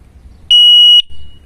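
An AliExpress anti-theft alarm device sounds a single sharp, piercing beep lasting about half a second, loud and clean against a quiet room.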